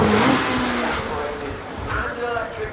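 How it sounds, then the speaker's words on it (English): A Lamborghini Temerario twin-turbo V8 hybrid revs hard at Goodwood Festival of Speed, a loud, high-pitched engine surging and rising nearby, with a commentator talking over it. "from the V8 twin turbo engine, all new"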